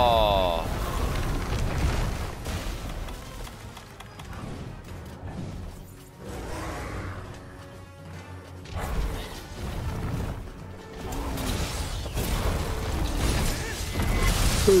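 Boulders are hurled at the player in a video game: heavy crashing impacts and rumbling smashes come in bursts, loud and close, mixed with clanking mechanism sounds and someone talking over them.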